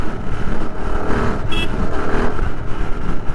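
A Royal Enfield Interceptor 650 twin-cylinder motorcycle engine drones steadily while riding on the road, a loud continuous rumble with wind noise and slight shifts in pitch.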